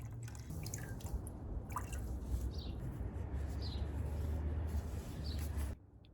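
Avocado-peel-dyed yarn being lightly drained, water dripping and trickling steadily for several seconds at moderate level, a few faint chirps above, then stopping abruptly.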